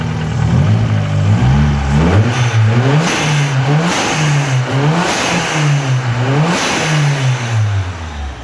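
An Opel Calibra Turbo engine close by with a blow-off valve fitted, revving repeatedly in rising and falling surges over a steady rumbling idle, loud and with no talking.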